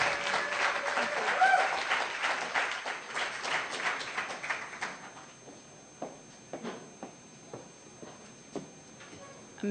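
An audience at a poetry reading applauds loudly at first, then the clapping thins out to scattered single claps over several seconds.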